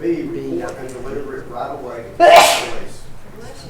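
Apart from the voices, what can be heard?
sneeze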